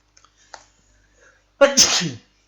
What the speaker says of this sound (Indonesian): Maaf, bersin.